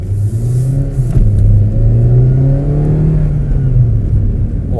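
A Suzuki Swift Sport with the 1.4 Booster Jet turbo engine accelerates hard, its steady mid-pitched engine note rising and holding loud and close under cabin rumble, with no talk.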